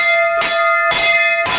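A temple bell at Sai Baba's shrine in Shirdi rings out three times in steady succession, each bright metallic strike followed by a long sustained ringing tone that carries into the next, loud and close with no voices.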